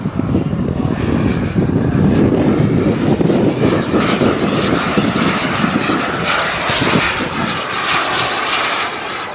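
A turbine-powered radio-controlled MDM-1 Fox glider roars loudly overhead, a sustained whining buzz that swells and shifts as it passes, with no talking.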